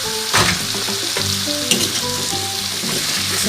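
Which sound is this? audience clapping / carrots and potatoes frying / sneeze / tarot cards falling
carrots and potatoes frying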